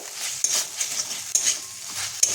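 Masala of green chili and ginger paste sizzles in a pan as a spoon stirs it, with a light frying crackle broken by a few sharp scrapes against the pan.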